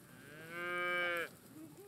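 Beef cattle on steep rangeland at Mount Diablo, one animal giving a single long, clear moo that swells and then breaks off, heard alone against quiet open-air background.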